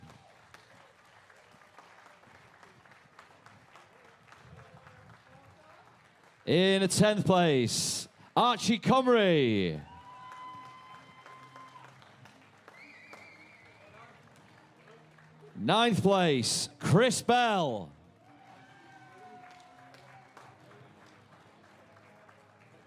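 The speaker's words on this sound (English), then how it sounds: "I'm sure you will give them a warm round of applause" Two loud bursts of applause from a crowd at a STIHL Timbersports British Rookie Championship lumberjack sports event, each lasting a few seconds, with an announcer calling out athlete placings over a quiet hall between them.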